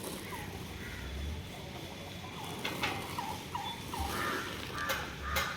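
Chickens roaming in a yard full of fowl, giving several short clucks and calls over a steady noisy background, fairly close, with faint voices in the background.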